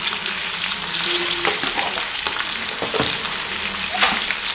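Lemon pieces sautéing in oil with salt, a dense close sizzle broken by a few clinks and scrapes of a spoon stirring in the pan, with no talking.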